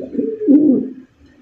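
A red checker racer pigeon gives a single close, loud, rolling coo lasting about a second, followed by quiet.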